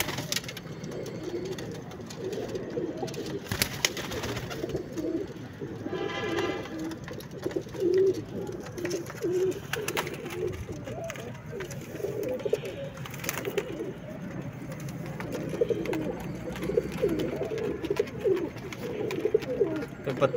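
Pigeons coo steadily in a loft or coop holding dozens of birds, a low murmuring chorus running throughout, with occasional faint voices in the background.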